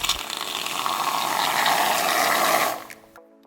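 Shaving cream hisses out of a pressurized can onto a spoon in one steady, close, sputtering spray lasting a few seconds before it cuts off abruptly.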